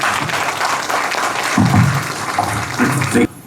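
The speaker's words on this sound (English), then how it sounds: "Let's give them one more round of applause" Audience applause at a speech event with a state governor, a short burst of moderate clapping heard under a speaking voice before it cuts off.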